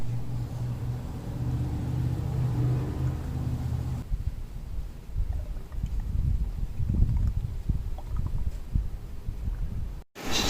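A Mercedes-Benz W140 S500 idles after engine treatment was added to its Rotella oil. A faint, steady low rumble continues throughout, with no talking.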